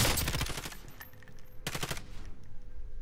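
Video-game sniper fire on a rooftop: a sharp burst of loud gunfire at the start, then a second cluster of shots about halfway through, with a lingering rumble between.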